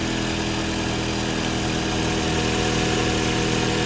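Toyota Caldina with a 3S-GTE engine idling after a fresh start: a steady, loud, close engine hum with even low rumble and no variation, no voices.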